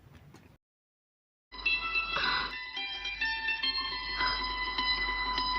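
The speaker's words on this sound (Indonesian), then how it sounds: "nampak suara lonceng itu mengagetkan Simran" After a brief pause, a loud ringing bell starts and keeps sounding steadily with a bright, sustained metallic tone and a low hum beneath.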